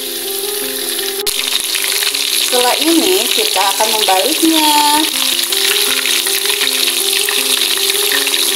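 Flour-coated chicken pieces fry in hot oil for an ayam saus telur dish, a loud steady sizzle and crackle running throughout, with brief stirring and a short stretch of talk partway through.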